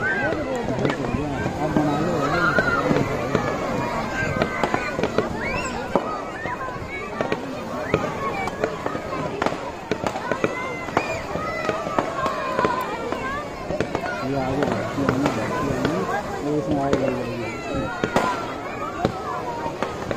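Fireworks at a beach festival in Port Blair, Andaman, crackle and pop in scattered bursts over the sea, mixed with constant crowd chatter and voices throughout.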